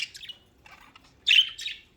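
Pet budgies chirping at breakfast, a short burst of bright tweets, a quieter twitter, then a louder squawky chirp, close and alone.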